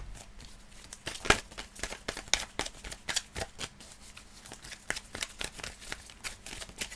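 A deck of oracle cards shuffled by hand, giving close, quiet papery flicks and riffles in an uneven rhythm with a few sharper snaps, heard alone without talking.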